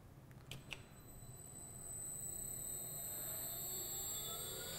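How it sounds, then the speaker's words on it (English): A low-speed IBC mixer at a mixing station starts with a couple of clicks, then settles into a steady, fairly quiet mechanical hum with high tonal whine as it runs at 220 RPM. "I have started the mixer. The speed is 220 RPM. It is a low speed mixer"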